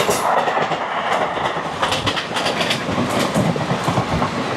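Poorva Express crossing the Nehru rail bridge over the Son river, a steady loud rumble of wheels on the steel span with rhythmic clickety-clack beats throughout.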